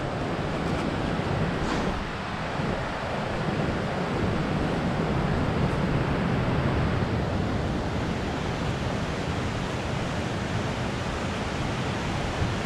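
Wide waterfall beside the Half Dome trail in Yosemite, a steady broadband roar of falling water that holds constant from start to finish, mixed with some wind, with no voices.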